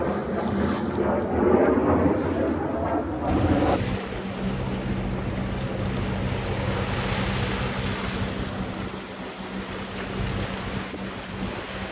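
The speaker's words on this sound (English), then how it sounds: "We have about 6 more miles to go, and we are sailing" A sailboat moves across open water toward Solomons Island, Maryland, with a continuous rush of waves and hull wash mixed with wind buffeting the microphone, loud and steady throughout with no talking.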